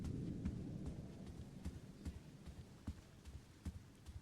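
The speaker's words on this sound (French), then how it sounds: "C'est ça qui est un peu stressant dans ce jeu. C'est l'orage." A rolling thunderstorm in the video game The Great Outdoors, with a low continuous rumble and scattered soft thuds and ticks like rain hits, heard at a moderate level without talk.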